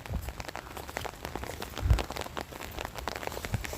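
Steady rain falling on a day when blossoming trees are bent over, with a dense patter of drops striking surfaces, close by and moderately loud, with occasional heavier splats.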